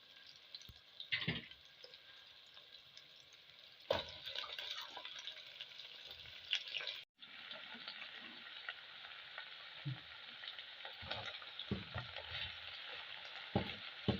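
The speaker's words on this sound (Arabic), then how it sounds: "فهسه راح أضيف السلق." Chopped chard sizzling and frying in a pan over softened onions for a chard and eggplant stew, steady crackle with a few stirring knocks and a brief pause midway.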